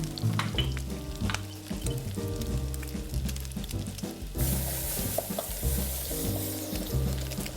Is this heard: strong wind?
no